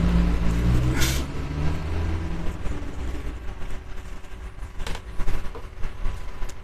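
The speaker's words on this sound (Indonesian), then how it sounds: "Suara mobil." A car passes on the street outside, a loud broad rumble at the start that fades into a softer, uneven road noise.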